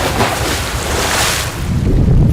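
Rough ocean water roars and surges as a person plunges into the sea near a sinking wreck. A loud, close, continuous rushing wash swells slightly toward the end.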